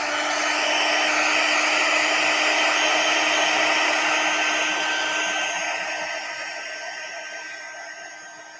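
Heat tool blowing steadily to dry wet shimmery embossing paste on a card, a loud continuous whir with a steady tone that gradually fades slightly toward the end.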